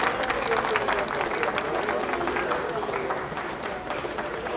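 An audience applauds a grand prize winner at an evening award ceremony, steady dense clapping with scattered louder claps and some voices mixed in.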